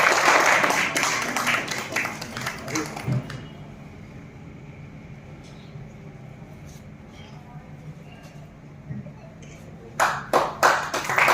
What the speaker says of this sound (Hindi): आप लोग तालियां बजाकर स्वागत करेंगे।